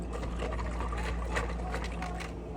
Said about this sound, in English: we're gonna grab a cup of ice, and we're just gonna pour this straight to the bottom